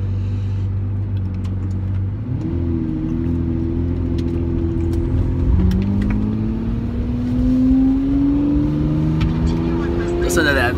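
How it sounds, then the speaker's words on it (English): Lamborghini Murcielago V12 cruising through a Las Vegas suburb, a steady engine drone from inside the car that rises in pitch as it accelerates through the gears, with people talking over it. "Listen to that V12 engine."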